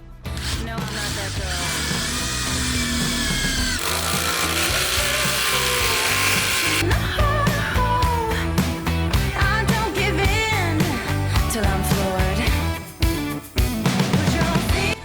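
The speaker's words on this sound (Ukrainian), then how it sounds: "тепер турбогвинт 250 на 10. Для цього я переключусь на третю швидкість." GRAND AGU 16BL mini impact driver in third speed driving a 250 by 10 mm screw, a continuous loud whirring and rattling hammering that strains and keeps going throughout, close and without talk.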